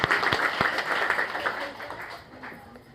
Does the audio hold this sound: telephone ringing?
no